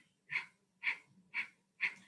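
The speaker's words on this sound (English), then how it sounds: "you're going to do breath of fire, which is panting through your nose, using your navel point to push the air out" Rapid breath-of-fire breathing, forceful panting out through the nose driven from the navel, four sharp even exhales about half a second apart, close and fairly quiet with no talking.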